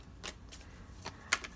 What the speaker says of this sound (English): So I'm just going to draw some cards here.